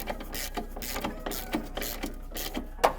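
Rapid ratcheting clicks from a wrench tightening a bolt on a VW T4 gearbox, a steady close mechanical rhythm running about three seconds with no talk.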